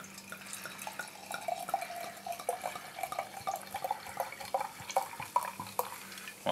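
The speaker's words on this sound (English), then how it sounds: "let's pour about that much in because I want to get a bit of a nose" Aspall Dry Premier Cru Suffolk cyder, 7% ABV, is poured from a 500ml bottle into a glass, giving a steady, fairly quiet gurgling trickle with fizzy splashes throughout.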